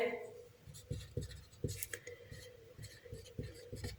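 Pen or marker writing on a board or paper during a maths lesson, soft scratchy strokes in short irregular bursts, close and fairly quiet with faint talk in the background.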